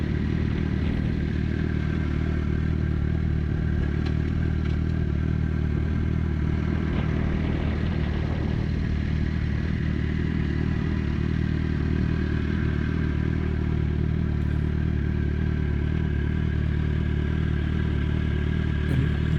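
A 2006 Suzuki GSX-R 750 K6 sport motorcycle rolls into a parking lot, its engine a loud, steady, close rumble with faint clatter and no talk throughout.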